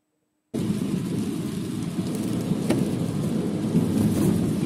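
Steady, loud rain hisses across an outdoor street scene in Unjeong new town, Paju, starting abruptly after a short silence, with a brief sharp crack partway through and no voices.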